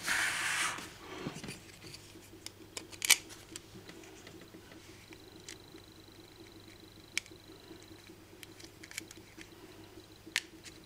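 A small standoff screw is turned into an ESP32 board stand, giving quiet, sparse clicks and ticks with a faint scrape, close up and with no talking.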